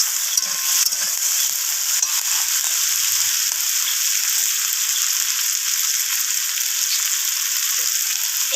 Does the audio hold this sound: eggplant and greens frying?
yes